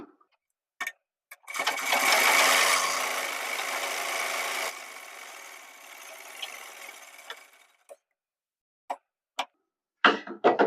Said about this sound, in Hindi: यहाँ से बकरम की जड़ में हम सिलाई लगा लेंगे।